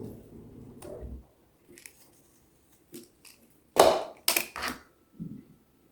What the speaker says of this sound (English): I'm going to peel some little bits here.